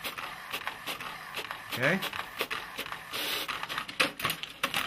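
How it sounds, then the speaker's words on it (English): An HP Business InkJet 1100 inkjet printer running a print job, giving a busy mechanical whirr with repeated short clicks and shuffling carriage strokes, close by, while a person speaks briefly over it. "It's printing right now."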